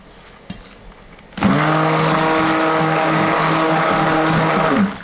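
A stick blender whirs steadily as it mixes deer tallow soap batter, starting abruptly after a brief click and running loud and constant with a steady motor hum before cutting off at the end.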